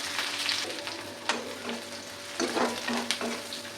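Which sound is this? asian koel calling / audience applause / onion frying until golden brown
onion frying until golden brown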